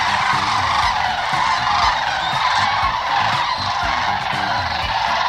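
A flock of sandhill cranes feeding on the wetland of Payne's Prairie keeps up a continuous chorus of overlapping rattling, honking calls, loud and close with no talk.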